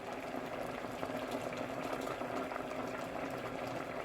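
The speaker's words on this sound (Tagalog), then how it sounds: "Takpan natin at hayaang kumulo. Ayan, kumukulo na." A covered pot of soy sauce stew boils steadily, a dense, even bubbling and hiss with no pauses, moderately quiet and close.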